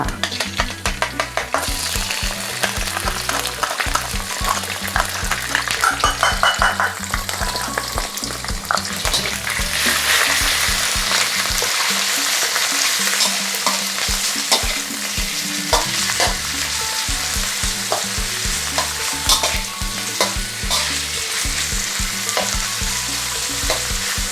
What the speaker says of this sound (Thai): เจียวกระเทียมให้เหลืองนะคะ พอกระเทียมเริ่มเหลืองหอมแล้วนะคะ ใส่ตับสดลงไปเลยค่ะ